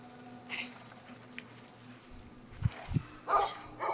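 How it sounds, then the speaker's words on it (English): A hostile dog in the video game Brothers: A Tale of Two Sons barks a few times, deep single woofs followed by sharper barks, over a quiet ambient game soundscape. "See, this dog, he is not pleasant."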